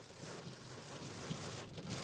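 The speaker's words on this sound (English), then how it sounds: "Damn, it's raining really hard." Heavy rain pours down steadily during a storm, heard from inside a stopped vehicle as a dense, continuous roar with low rumbling, no voices.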